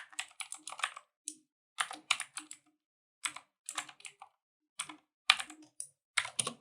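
An email address is typed on a computer keyboard in close, crisp bursts of key clicks separated by short pauses, alone in a quiet room.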